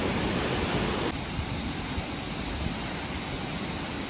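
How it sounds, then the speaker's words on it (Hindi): Continuous broadband rush of a hidden waterfall near Bir, Himachal Pradesh, a dense steady roar heard close up, with no pauses and no voices. "ये रहा ग्लिम्स वाटरफॉल का।"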